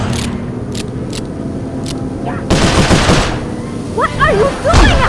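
Rapid bursts of gunfire in the video game Sly Cooper: Thieves in Time on a Rail Canyon level, loud and crackling in quick volleys, with sharp single shots and game effects around them.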